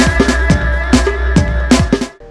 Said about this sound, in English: low-frequency bass tones that made dubstep so special